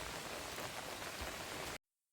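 Steady rain falls in the open onto a road in poor condition, a dense continuous patter at even loudness that cuts off abruptly into silence near the end.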